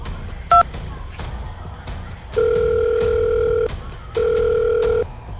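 A telephone call being placed, with a short beep followed by two long ringback tones separated by a pause, clear and steady over a quiet background.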